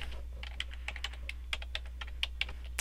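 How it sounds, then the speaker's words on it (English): Computer keyboard keys tapped steadily while a password is entered, a quick run of distinct clicks at close range over a low steady hum, with no talking. "type a password to this user"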